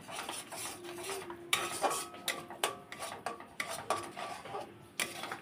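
Palm fruit pulp heating in a wok while a utensil stirs and scrapes against the metal in repeated sharp strokes, with a soft sizzle underneath and no voices.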